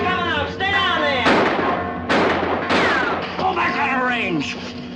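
Gunfire in a 1954 western film, several loud sharp shots with ringing tails cutting through a dramatic orchestral score, while someone shouts.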